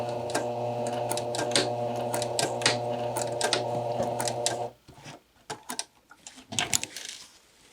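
Domestic sewing machine stitching a skirt waistband near the zipper tape, a steady fast mechanical whir for several seconds, then stopping for short sharp back-tack bursts and clicks.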